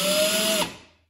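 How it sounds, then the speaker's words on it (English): A power drill spins a shaft being shaped into a rivet set tool, a steady close whine that holds for about half a second and then winds down to silence. "turn the drill, get the drill moving"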